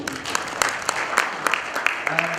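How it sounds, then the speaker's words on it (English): Audience applause after a conference presentation on faecal sludge treatment processes, a steady wash of clapping with a few sharper claps standing out, moderately loud and continuous for the whole stretch. "One round of applause for Dave, please"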